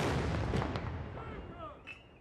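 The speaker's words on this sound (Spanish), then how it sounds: "también se percibieron disparos de salvas de cañón." Deep cannon booms from a gun salute in the United Kingdom honouring the late Queen, a couple of heavy blasts rolling out over a noisy outdoor background, with faint voices.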